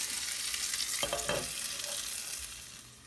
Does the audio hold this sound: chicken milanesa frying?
yes